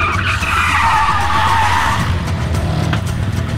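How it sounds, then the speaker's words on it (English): A car performs a handbrake turn into a parking space during a film stunt, its tyres letting out a loud, sustained screech and skid over engine rumble for a few seconds, with no talking. "we did a handbrake turn into a parking space"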